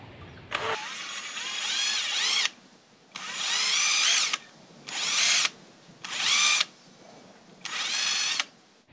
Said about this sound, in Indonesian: kalau udah dibor, kalian lubangin lagi ya agak besar, pakai mata bor 7 mili ya